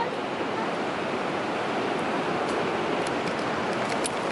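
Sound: waves at Watu Karung beach

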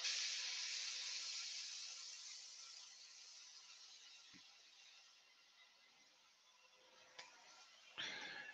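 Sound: spraying spirit stain on woodturning

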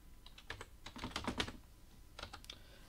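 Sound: typing a value on a computer keyboard

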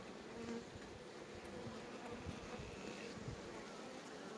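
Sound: honey bees buzzing

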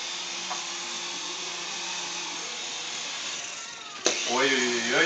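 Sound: toy radio-controlled helicopter rotor whirring

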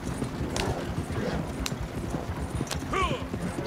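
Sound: horse hooves clip-clop in video game Red Dead Online

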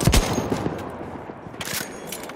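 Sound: enemy machine gun fire in Battlefield 1 video game

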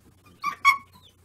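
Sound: dog whining and squeaking during bark training

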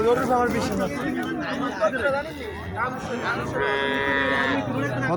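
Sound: cattle mooing at a cow market

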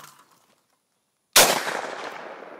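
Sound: shotgun shot at clay target

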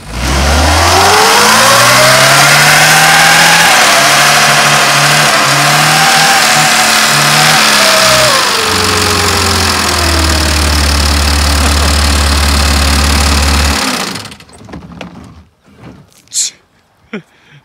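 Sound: Pontiac car engine revving then idling

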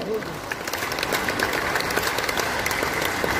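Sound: applause from staff and public

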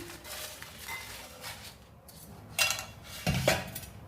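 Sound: fried potato chips being put into a deep bowl

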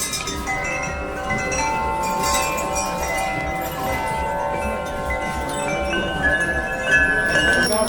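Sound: many bells ringing in a shop

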